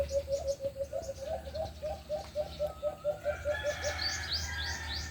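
A Philippine hanging parrot calls nearby in a rapid, steady series of short repeated notes, followed by higher chirps near the end.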